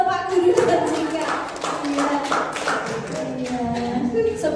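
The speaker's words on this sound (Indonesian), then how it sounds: "Tepuk tangan untuk Pak Guru dan Jika." Audience clapping at an Indonesian classroom or seminar session, moderate and steady for several seconds, mixed with voices and murmuring talk throughout.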